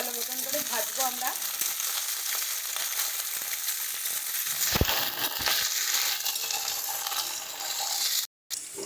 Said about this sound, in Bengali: গাজর, সমস্ত কিছুকে ভালো মতন করে ভাজবো আমরা।